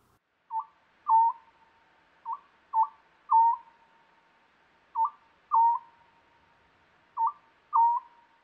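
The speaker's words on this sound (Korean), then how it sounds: "이렇게 소쩍, 소소쩍 이렇게 소리를 내서 소쩍새입니다." Oriental scops owl calling at night, clear repeated short whistled hoots in pairs and triplets at a steady rhythm, isolated against a silent background.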